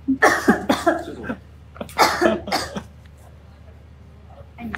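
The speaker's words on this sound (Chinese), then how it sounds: "我想咳嗽一下" A few close, sharp coughs in short bursts at a live interview, loud and near, followed by quieter moments and faint background sound.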